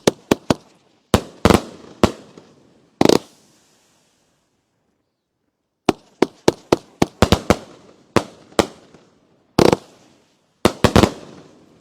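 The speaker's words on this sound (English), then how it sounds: "Next one up is the Big Boom by Super Fireworks. Better have some big booms in it." A Big Boom fireworks cake by Super Fireworks fires outdoors, alternating sharp booming bursts and mine shots in irregular clusters, with a quiet gap midway before a dense volley of loud cracks and booms.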